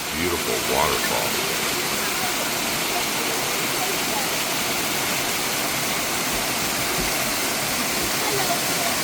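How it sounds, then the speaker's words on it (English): A waterfall in a rainforest pours with a loud, steady, broadband roar that stays constant throughout, close to the listener. "Beautiful waterfall."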